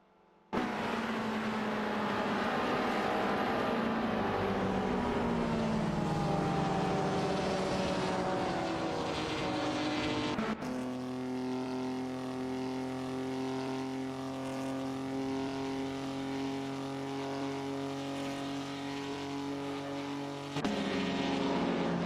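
Racing cars in a video game, a Volkswagen Golf GTI 90 and a Fiat Dino, their engines droning loudly with rising and shifting whines and abrupt gear or camera changes, continuous and without talk.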